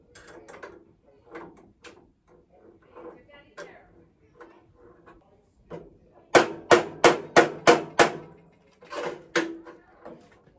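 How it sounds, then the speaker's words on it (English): Hammer blows on exhaust parts being fitted to a CB Performance 2017cc VW engine: a fast run of seven sharp metallic whacks, then two more, following quieter clanks and tool handling. "If in doubt, whack it."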